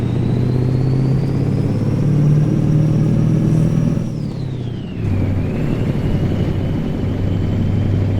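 Truck engine in American Truck Simulator lugging in too low a gear, a loud steady droning rumble that holds, dips briefly around midway, then resumes with a whining tone above it, no voices.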